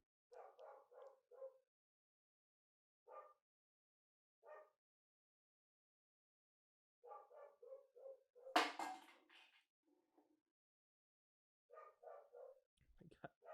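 A dog barks in short bursts of two or three yaps, separated by pauses, with a louder burst midway and a sharp scuffle near the end; no one talks over it.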